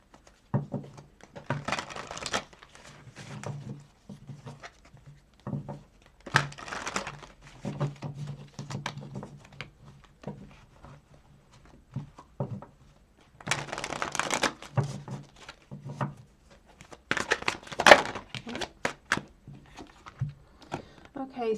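Tarot cards shuffled by hand during a reading, several uneven bursts of papery flicking and crinkling close to the mic, separated by short quiet gaps.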